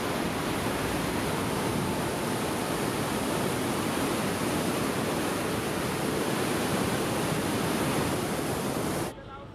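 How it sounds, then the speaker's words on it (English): The Iguazu waterfalls on the Brazil-Argentina border, set in subtropical rainforest, give off a loud, dense, continuous roar of falling water that cuts off abruptly near the end. "Here, amongst the subtropical rainforest, is one of South America's prime tourist destinations, the majestic Iguazu waterfalls."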